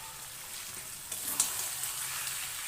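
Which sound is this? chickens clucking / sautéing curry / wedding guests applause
sautéing curry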